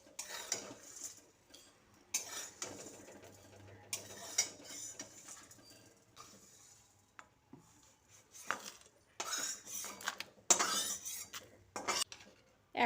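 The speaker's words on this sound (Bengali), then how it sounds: "তারপর মশলাগুলোকে একটা পাত্রে তুলে নিচ্ছি।" Roasted whole spices being scraped and tipped from a pan into a bowl, with a run of close, intermittent metallic clinks, scrapes and rattles of utensil against cookware, loud in bursts with quiet gaps between.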